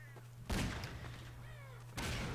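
Gunshots in the video game Half-Life 2, two sharp loud blasts about a second and a half apart over a low steady hum.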